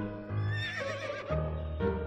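A horse neighs in the video game To The Moon, a loud whinny with shifting harmonic tones lasting about two seconds, alone with no talking.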